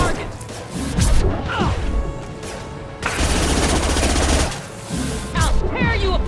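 Rapid gunfire and impacts from Mass Effect 2 combat, dense bursts of shots and crashes filling the stretch, with voiced shouts from characters mixed in.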